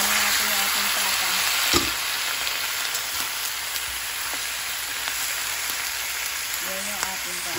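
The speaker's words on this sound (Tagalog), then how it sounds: "Hindi lang, lagyan na natin yung ating pata." Pork leg sautéing in a pan with garlic and onion, a steady bright sizzle with a sharp clatter near the start and occasional stirring, a voice faintly underneath.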